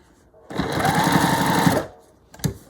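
A sewing machine stitching fabric bunting flags runs in one steady burst of rapid, buzzing needle strokes for over a second, close and loud, then stops, followed by a brief clunk.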